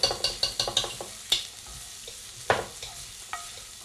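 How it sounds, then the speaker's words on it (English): Garlic and chili flakes sizzle in a pan while being stirred: a rhythmic series of scraping, clattering strokes over a soft frying hiss, close and fairly clear, with no talking. "Just make sure the garlic doesn't get burned."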